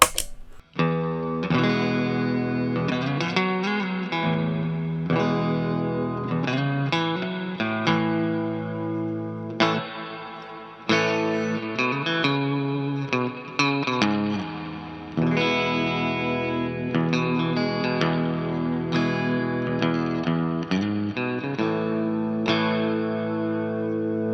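An electric guitar played through a reverb pedal followed by a compression pedal plays chords and melodic phrases with a washy, sustained effect, notes ringing out long with overly long, smeared reverb tails between clean pauses.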